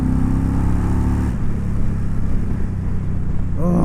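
A 2020 Indian Challenger Darkhorse motorcycle pulls hard on a freeway, its close, loud engine rumble shifting as it accelerates, mixed with heavy wind noise.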